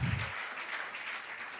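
A church congregation at a couples' service applauds in a soft, steady patter of clapping that sounds somewhat distant and faint, with a brief low rumble at the start.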